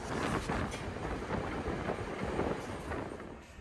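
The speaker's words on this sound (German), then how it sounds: "In den Sommermonaten ist der Dampfzug der Lokalbahn unterwegs, an den Wochenenden." A train runs on the Amstetten–Gerstetten local railway, operated with a steam train in summer, giving a steady rumbling rattle of rolling wheels and carriages, fairly close and even, with no talk.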